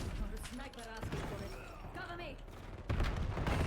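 Gunfire in Call of Duty on the Nuketown map, with a steady stream of shots heard under someone talking excitedly, then a louder burst near the end.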